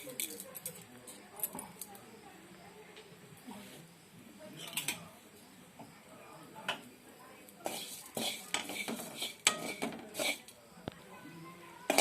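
Metal spoon scrapes and clinks against a pot as cumin and mustard seeds are stirred and roasted on a gas stove, quiet intermittent rattles with bursts of sharper clattering.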